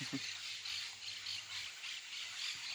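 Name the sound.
birds singing in nature at a park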